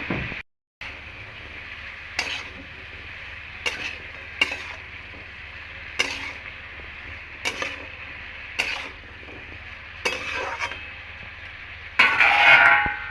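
Spatula scraping and stirring red amaranth greens with turmeric and salt in a pan, a steady sizzle underneath broken by regular rhythmic stirring strokes every second or so, close and moderately loud with no talk.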